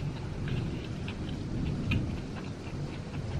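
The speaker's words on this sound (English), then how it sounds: "It's not lightning, it's just thundering." Steady rain pattering with a low, rolling thunder rumble underneath, moderately quiet and continuous, with scattered sharper drips ticking on a nearby surface.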